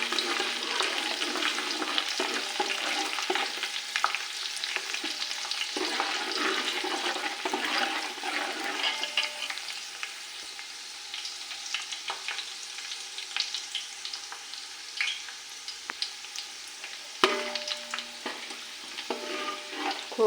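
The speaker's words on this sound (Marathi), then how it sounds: "खोबऱ्याचे काप थोडे भाजून घ्यायचे, चांगले लालसर होते." Dry coconut slices roasting in a pan for chivda, a steady crackling sizzle with frequent stirring scrapes and small clinks running throughout, close and moderately loud with no voices.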